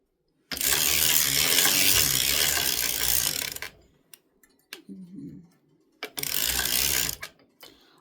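Circular sock knitting machine cranked around with waste yarn, giving two long bursts of dense mechanical clatter and ratcheting from the needles, with a few quieter clicks and knocks in the pause between them.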